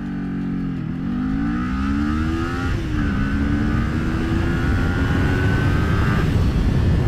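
A Kawasaki Ninja 400 sport motorcycle engine revs hard and climbs in pitch, shifting gears twice as it accelerates, loud and close with a rising whine.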